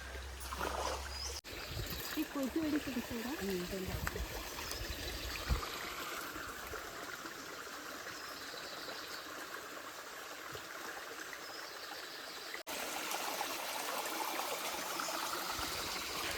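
A shallow stream of water flows out from a well channel in rural Konkan, with reduced flow after scant rain, giving a faint, steady trickling and rushing that continues throughout.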